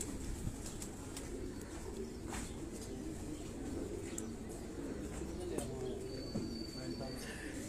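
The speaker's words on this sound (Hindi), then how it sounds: "ये वो कबूतर हैं" Heera laal pigeons coo softly in a loft, low repeated cooing under steady background noise and scattered small chirps, with no talk.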